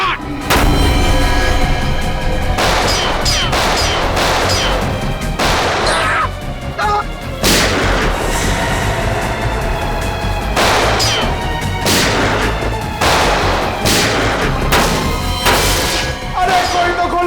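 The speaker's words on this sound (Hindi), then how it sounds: "मुझे भी गोली चलानी है।" Loud gunshots in a CID TV serial shootout between police officers and gangsters, sharp cracks and bursts fired irregularly throughout, some in quick clusters, with reverberating crashes between them.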